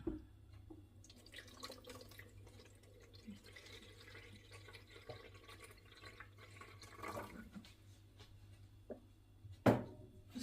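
Water poured into a cooking pot in a home kitchen, a soft continuous trickle and splash over a steady low background hum, with a louder burst of pouring near the end.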